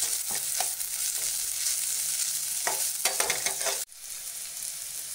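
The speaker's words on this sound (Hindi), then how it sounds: "उसके बाद हम 2 मिनट फिर से भून लेंगे इसको" Crushed ginger and garlic paste fries in a pan for egg masala, a steady close sizzle broken by repeated spatula stirs and scrapes, cutting off sharply near the end; nobody speaks.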